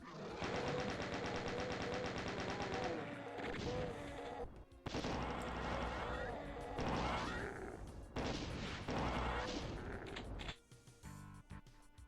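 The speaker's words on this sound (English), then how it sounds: "I don't have any, so we'll go with the chain gun" A chain gun fires in Doom II, rapid rattling bursts of gunfire with heavy thuds and crashes mixed in, dense and loud, broken by short pauses between volleys.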